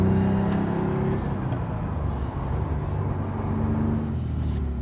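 A 1974 Ferrari 246 GTS Dino engine runs loud and close on a cold day, its steady roar shifting pitch as it climbs through first to third gear.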